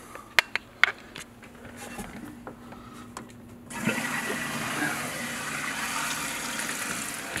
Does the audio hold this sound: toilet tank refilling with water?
yes